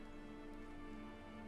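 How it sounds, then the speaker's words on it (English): Light rain falling on a dead-calm early morning with no breeze, a faint, even patter with a steady hiss and no distinct drops standing out. "Just a light rain."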